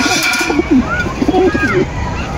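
A pair of red teddy pigeons coo in soft, throaty bursts close by, several short calls overlapping with someone talking nearby.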